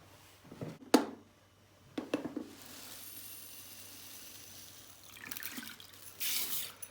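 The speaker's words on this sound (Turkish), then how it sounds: "İki su bardağı pirincimizi soğuk suya boşaltıyoruz." Two cups of rice tumble into a bowl of cold water, giving a few splashy pours and drips followed by a soft trickle, quiet and close with no talking.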